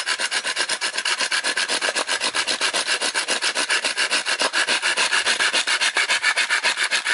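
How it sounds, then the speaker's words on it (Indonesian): A hand saw rasps steadily through wood outdoors in the Indonesian bush in fast, even back-and-forth strokes, loud and close, with no voices. "saya gergaji dulu sedikit"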